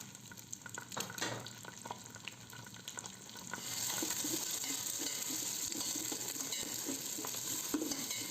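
Beaten egg fries in a lightly oiled hot pan for Malaysian-Singapore style nasi goreng, stirred with a spatula. A steady close sizzle grows louder and fuller partway through, with soft scraping stirs on top.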